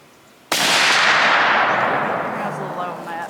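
A single loud .308 hunting rifle gunshot cracks sharply after a brief quiet lead-in, then a long booming echo trails off over the next few seconds.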